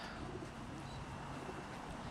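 Birmingham Roller pigeons coo softly in a loft, low murmuring calls repeating under a steady background hiss, faint and continuous.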